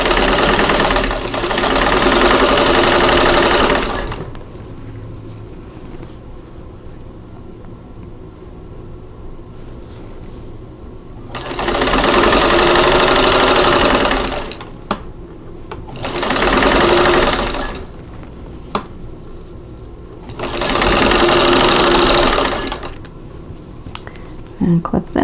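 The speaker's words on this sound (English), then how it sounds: "I'm going to sew these together in rows, and then I'll sew the rows together" Close, loud sewing machine joining quilt block pieces in rows, whirring in four sustained bursts of several seconds each separated by quiet pauses filled with faint handling noises.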